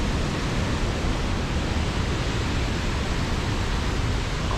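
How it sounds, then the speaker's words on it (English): Reekie Linn waterfall in Scotland roars in a steady, dense broadband rush of falling water, loud and close, unbroken for the whole stretch with no voices. "The roar from the waterfall"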